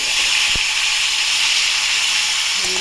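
Fish frying in hot oil in a home kitchen, a loud, steady bright sizzle and hiss throughout with a sharp click near the start and a faint tone toward the end.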